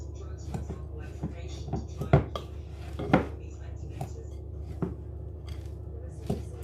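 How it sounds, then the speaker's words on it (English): A spoon works flapjack mixture and sugar together in a bowl, making irregular scrapes and knocks with a couple of louder clunks against the bowl, close, under occasional talking. "give it a good mix. Make sure we get that sugar incorporated everywhere"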